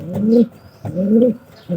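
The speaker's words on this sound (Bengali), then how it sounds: "দেখেন পায়রাটা কিন্তু খড়ের ভিতরে আছে" A pigeon coos close by from inside straw, three soft throaty coos in a slow, regular rhythm.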